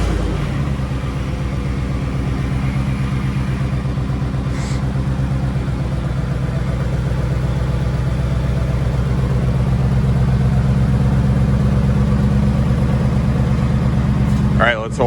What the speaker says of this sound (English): we're gonna start the truck up.